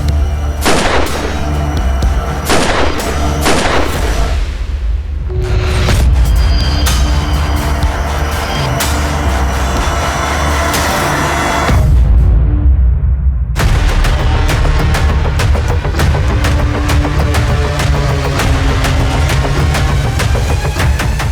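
Loud, dense gunfire and heavy booms fill a Hindi crime drama scene, with repeated sharp shots and explosive bursts over a continuous rumbling score, broken by a couple of brief pauses.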